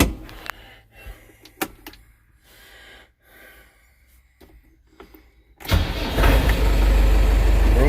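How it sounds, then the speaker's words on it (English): A few quiet clicks and shuffles, then a small tractor engine starts up and runs loudly with a steady chugging drone. "I love this little tractor."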